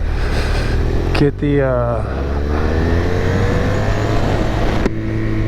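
A BMW S1000RR motorcycle with a fault pulls away: a loud, close engine drones and revs up through a rising, stepped pitch over steady road and wind noise, with a brief spoken word.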